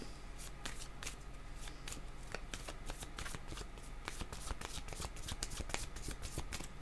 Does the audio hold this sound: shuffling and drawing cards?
yes